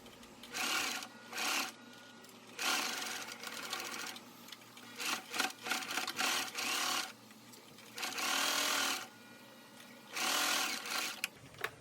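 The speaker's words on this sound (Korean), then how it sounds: "먼저 입구 부분을 바느질을 해줍니다." A sewing machine stitches the opening of a sleeveless apron-style dress in repeated close bursts of fast mechanical whirring, separated by short pauses.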